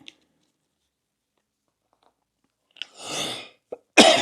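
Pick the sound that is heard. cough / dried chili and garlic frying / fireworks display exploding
cough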